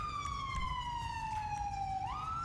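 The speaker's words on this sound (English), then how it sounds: "His siren is so annoying right now." A police car siren wails in GTA 5, a loud, steady tone sliding slowly downward before jumping back up near the end, heard alone with faint rumble beneath.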